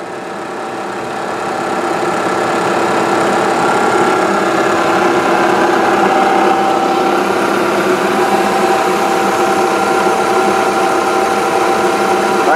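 A Bridgeport milling machine driven by a treadmill motor through a belt drive runs its spindle at about 2,000 rpm, a loud, steady whirring hum with a faint whine that holds constant throughout, no talk.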